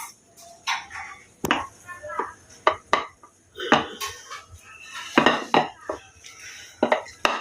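Jackfruit seeds, small kachki fish, onion, salt and chili flakes being mashed together for bharta, heard as irregular clinks and scrapes of a utensil against a dish, with people talking intermittently.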